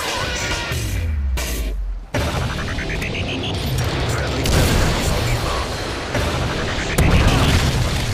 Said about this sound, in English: Predator missile ready for deployment. Launch.